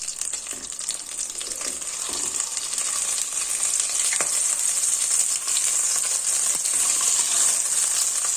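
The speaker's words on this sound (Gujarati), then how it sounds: "હવે આપણે તેને પલટાવી અને બીજી સાઈડ પણ એ જ રીતના શેકી લેશું" Leftover roti roasting in a pan gives a steady, close sizzle with fine crackling and a few light clinks throughout, growing slightly louder, with no talking.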